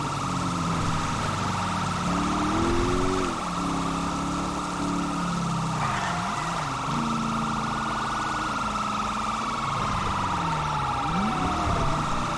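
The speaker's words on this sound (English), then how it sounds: "I hear another siren now" A police siren in GTA V wails continuously, rising and falling, over a steady engine rumble with a brief higher tone partway through.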